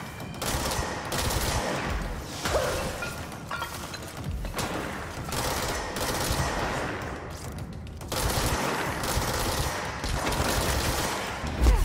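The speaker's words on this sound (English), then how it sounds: "Someone's shooting at me." Sustained bursts of automatic gunfire in the video game Control, loud and close as enemies shoot at the player, with dense rattling volleys, occasional thuds and no talking.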